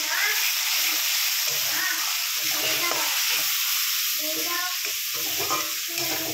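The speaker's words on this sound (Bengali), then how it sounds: "পেঁয়াজটা ভাজা হয়ে গেছে, এরপরে আমি ওই মিক্সটা দিয়ে দেবো, টমেটো, আদা, রসুন আর" A paste of tomato, ginger, garlic and green chili fries with onions in a pan for an egg curry, giving a steady loud sizzle with intermittent stirring scrapes throughout, and no talk over it.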